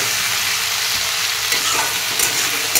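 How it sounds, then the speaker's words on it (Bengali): Sliced bitter gourd frying in a pan with salt, giving a loud, continuous close sizzle. A spatula now and then scrapes and stirs the pieces. "ব্যাস এই চাক চাক করে উচ্ছে ভাজবো"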